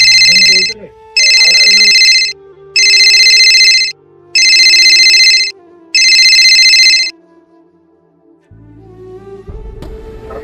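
Mobile phone ringtone playing five loud, evenly spaced bursts of bright tones, then stopping as quieter sounds and brief noise follow near the end.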